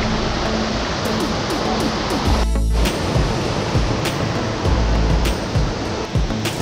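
A multi-level waterfall at Dingalan, Aurora, roaring as a loud, continuous broadband rush of falling water, close and steady throughout, with a brief low thump partway through.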